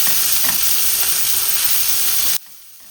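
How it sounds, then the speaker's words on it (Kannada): Cumin, asafoetida and onion fry in ghee in a kadai, a loud, close, hissing sizzle with light stirring taps that cuts off abruptly to near silence just before the end. "ಜೊತೆಗೆ ಜೀರಿಗೆ ಮತ್ತೆ ಈರುಳ್ಳಿ ಈ ಮೂರನ್ನ ಹಾಕಿ ಚೆನ್ನಾಗಿ ಫ್ರೈ ಮಾಡ್ಕೊಳ್ಬೇಕು"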